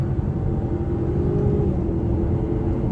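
A 2023 BMW X4 xDrive30i accelerates hard in third gear while merging onto a highway, a steady close engine drone with road rumble filling the cabin, no voices.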